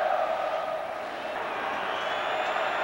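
Fluminense supporters roaring in a stadium during a 1998 Carioca championship match against Vasco, a broad, steady crowd cheer heard at a distance, fairly faint and continuous.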